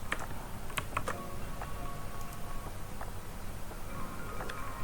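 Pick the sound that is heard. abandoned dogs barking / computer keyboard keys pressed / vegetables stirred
computer keyboard keys pressed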